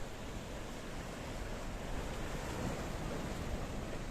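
Mediterranean Sea waves wash in at St George's Harbour near Peyia, Paphos, Cyprus, a steady broadband surf hiss mixed with wind buffeting the microphone, with no voices.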